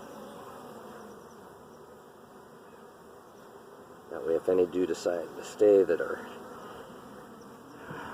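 Honey bees humming around comb in a hive, a steady low insect drone throughout with a person talking over it in the second half.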